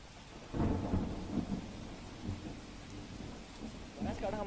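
Monsoon thunderstorm over Banaskantha with heavy rain and thunder, a deep rolling rumble swelling in after a moment over a steady hiss of downpour, then further low grumbles that fade and return.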